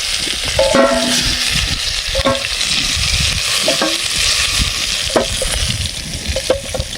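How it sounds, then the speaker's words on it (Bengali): Prawns frying in hot oil make a steady broadband sizzle as they are lifted out for a jackfruit and prawn curry, with a few light utensil scrapes and clinks throughout. "আমাদের চিংড়ি মাছ ভাজা হয়ে গেছে, আমরা এখানে তুলে নেবো চিংড়ি মাছ।"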